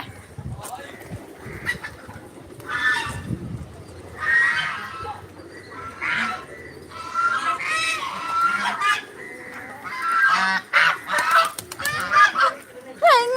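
A flock of ducks quacks repeatedly in noisy bursts, growing busier toward the end, with some voices in the background.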